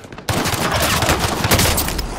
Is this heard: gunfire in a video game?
yes